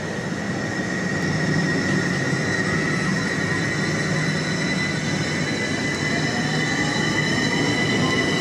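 A train at a station on the Medway line in Kent, with steady, loud rolling rumble and faint wheel squeal throughout, near and continuous without speech.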